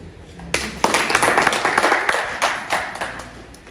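Audience clapping and applauding at a concert in Gitega, Burundi, bursting in after a quiet start and continuing as dense, steady applause with sharp individual claps close by.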